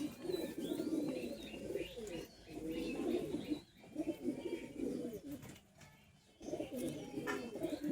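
High-flying pigeons cooing in repeated soft, throaty bursts close by, a few phrases separated by brief pauses, with faint chirps in the background.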